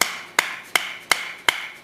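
Five sharp knife-batoning strikes split a cedar board, spaced evenly about every third of a second, each a crisp woody crack with a short ring, close and alone.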